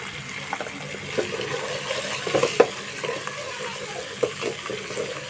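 A masala of green chillies, curry leaves and cumin browns in a pan for potato and egg curry, with a soft continuous sizzle broken by scattered close scrapes and taps from stirring.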